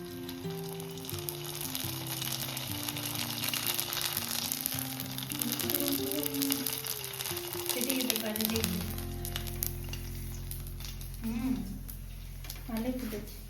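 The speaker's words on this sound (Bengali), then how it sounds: "এই এখন ফুচকাগুলোকে আমরা ভেজে নিচ্ছি।" Homemade fuchka puri shells fry in hot oil with a steady crackling sizzle, while voices and background music carry on throughout.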